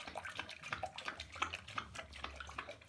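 A seven-month-old female dog weighing over 70 pounds drinks water in a bathroom, with quick, close, wet lapping in an uneven rhythm and no voices.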